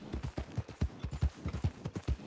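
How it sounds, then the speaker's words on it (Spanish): Horse hooves clip-clop steadily on the ground in the Western roleplay game RedM, about a dozen close, evenly paced thuds in a walking rhythm with no voices over them. "Cómo me gusta este caballo"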